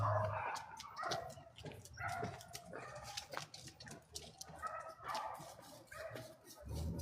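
A dog barks and yips in a series of close, irregular bursts, with a few whimpers between them and no talk over them.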